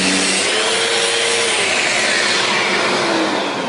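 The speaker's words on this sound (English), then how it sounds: "Now let me switch to the soft pad." A Festool Rotex RO 150 dual-action sander fitted with a soft pad works over rough bandsawn wood, giving a loud, steady whirring hiss with a grinding scrape that runs unbroken and close throughout.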